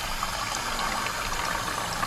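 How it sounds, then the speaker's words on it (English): Water streams out of the drainage holes at the bottom of an empty custom planter, a steady nearby splashing trickle and gush that holds constant throughout, with no talking. "You can see the water coming out of the holes"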